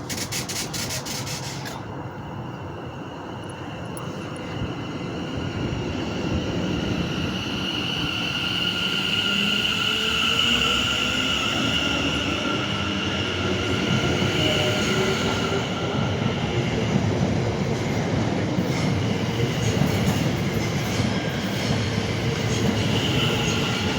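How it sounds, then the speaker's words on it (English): Class 730 electric trains pull out of Aston station on a West Midlands Cross City service. A loud, steady rumble builds as they gain speed, with wheel hiss and a faint squeal drawn out over twenty-odd seconds. "These are departing with the delayed 1216 West Midlands Cross City service from Bromsgrove to Lichfield, Trent Valley."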